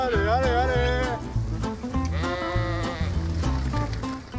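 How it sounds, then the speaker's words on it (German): Sheep bleat repeatedly while being herded across a fenced trial field, several loud, wavering calls overlapping one another close by. "Und die Schafe zu bewegen, ist ganze Arbeit."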